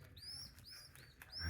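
Baby birds chirping while being fed by hand, thin rising cheeps repeating close by over soft handling noise.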